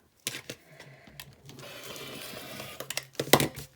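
A sewing machine stitches along a quarter-inch seam line, starting with a few sharp clicks, then running in a steady mechanical whir before ending in louder taps.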